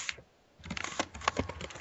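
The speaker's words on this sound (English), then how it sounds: "Your typing will annoy many people" Rapid clatter of keys on a computer keyboard, a dense burst of close, crisp clicks after a brief pause, with no voices.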